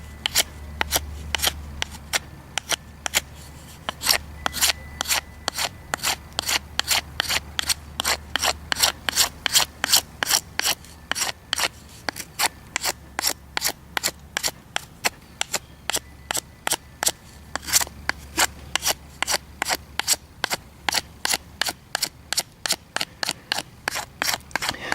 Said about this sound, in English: just graze the outer bark off. Just to smooth it out so we're not wearing down the bow drill string.